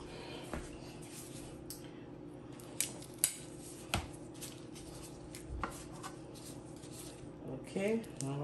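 Kitchen scissors cutting through raw chicken being cleaned, giving a handful of crisp, separate snips and clicks under a quiet, steady background while someone talks nearby.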